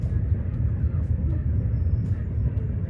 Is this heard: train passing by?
yes